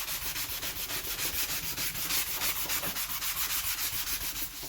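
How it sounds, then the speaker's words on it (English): Steady, rhythmic scratchy rubbing of sandpaper worked back and forth over wood, close and continuous with no voices. "give this block of wood a little more sanding"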